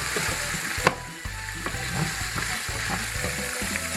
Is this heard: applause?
no